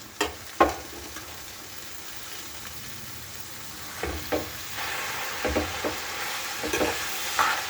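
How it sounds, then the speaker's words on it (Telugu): Fresh amaranth leaves go into a hot pan to fry, giving a soft, low sizzle broken by sharp scraping and clacking of a spatula stirring them, with the frying hiss rising toward the end. "ఇప్పుడు తోటకూర వేసేసుకొని ఫ్రై చేసుకోవాలి"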